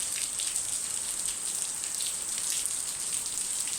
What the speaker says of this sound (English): from my porch in Japan, look at that rain